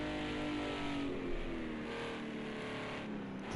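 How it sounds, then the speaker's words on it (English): Race car engines in a sim racing club sprint at Barcelona National drone and rev at a fairly low level, one passing and accelerating with rising and falling engine tones under a constant rumble. "The cars are just absolutely fantastic. They sound so good"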